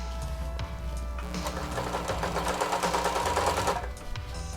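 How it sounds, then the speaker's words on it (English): A sewing machine runs steadily and close for a few seconds, stitching two short rounds of lock stitches on both sides of a label on a Jane harness, then slows and stops. "do 2 little rounds of lock stitches on both sides of the label"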